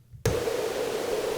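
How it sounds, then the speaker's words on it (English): Steady broadband hiss from a Copilot FX Arrow Airwaves Supreme white noise pedal, running with no input signal, starts abruptly after a brief silence and holds at an even, loud level with a faint filtered tone in the middle. "You can engage the white noise to be on at all times"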